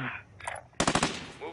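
Rapid burst of automatic gunfire in a first-person shooter video game, a loud dense volley of shots following quieter game sounds, with players talking briefly around it.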